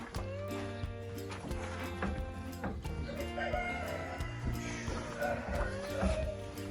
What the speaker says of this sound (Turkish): İçeri girelim. İçeride daha çok tavuk var.